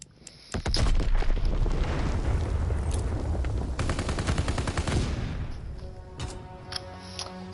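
Fortnite WW2-mode gunfire, with a sharp opening shot followed by a long, dense stretch of rapid rattling rounds and booms that thins into scattered cracks and pings. No voices are heard.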